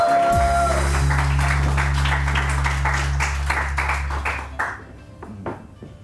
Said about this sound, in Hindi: थोड़ा सा तालियाँ तो बजाइए इनके लिए